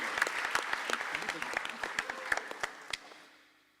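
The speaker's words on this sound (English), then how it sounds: "Sumhit a round of applause." Audience applause after an introduction at an arangetram, with a thin scatter of individual claps that thins out and fades to quiet by the end.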